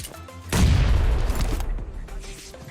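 A grenade explodes in PUBG Mobile (BGMI) gameplay with one loud, close blast that decays into rumbling debris and fades over a couple of seconds.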